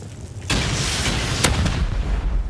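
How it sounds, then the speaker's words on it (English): A rocket launches and explodes in a survival video game raid on a cliffside base: a sudden loud roaring blast at about half a second, followed by a sustained rumbling explosion with a sharp crack partway through, no talk. "I'm gonna send a regular rocket, try to kill this guy."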